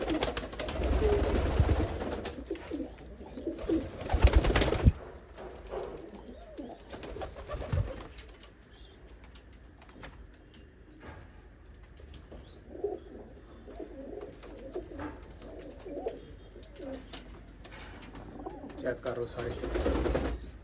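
Soft, low pigeon coos repeat now and then close by, alongside rustling, handling noises and occasional talking.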